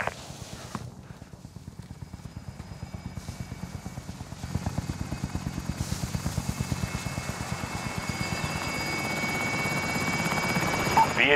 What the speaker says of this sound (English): Helo is inbound for deposit.